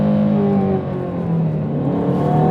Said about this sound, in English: So that exhaust with its quad exit has been tuned to be louder and more aggressive than before